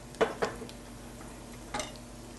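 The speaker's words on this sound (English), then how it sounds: "I'm going to stir my celery and onions, get it ready for my apples" A spoon knocks against a pot while celery and onions are stirred, three soft scraping clinks, two close together then one more after a pause, over a faint steady kitchen hum.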